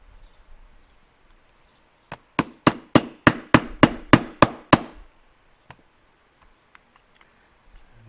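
About ten sharp, evenly spaced hammer blows ring out close by during assembly of a Yamaha AT-1 motorcycle wheel and brake, followed by a few scattered lighter taps.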